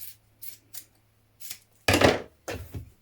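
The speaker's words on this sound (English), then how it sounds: "And trim that seam allowance" Scissors snip through a fabric seam allowance while sewing trousers, giving several short, close cutting sounds in separate bursts, the last two louder and fuller, with quiet pauses between and no talking.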